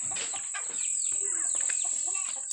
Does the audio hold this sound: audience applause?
no